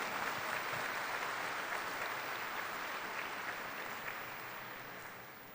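An audience at a 2019 Highland Park high school graduation ceremony claps in a dense, sustained wash of applause that slowly fades toward the end.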